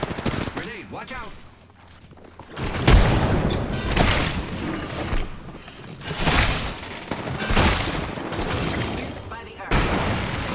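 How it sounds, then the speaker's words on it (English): Apex Legends gameplay with a grenade going off in a burst of loud booms, mixed into dense gunfire and battle noise while players talk over the action. "Grenade, watch out."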